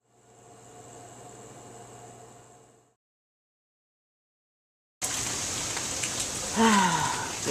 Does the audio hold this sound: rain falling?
yes